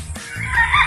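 Chickens on a rural provincial farm with turkeys and ducks nearby give a brief burst of soft clucking, close and fairly loud, over low background rumble.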